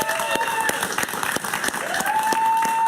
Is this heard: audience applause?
yes